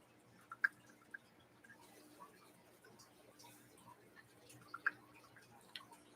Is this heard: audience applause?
no